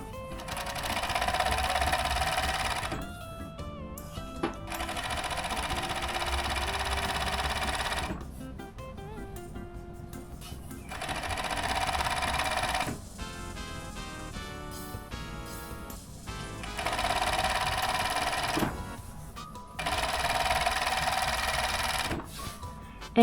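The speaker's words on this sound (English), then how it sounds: "So let's serge." A serger overlocking the edge of a fabric pocket bag, loud rapid mechanical whirring in several sustained runs separated by short quieter gaps of handling.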